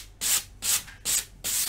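Four rhythmic strokes of sandpaper on a cork block rasp against a glass edge from a clip frame, each a short scratchy rub with brief pauses between.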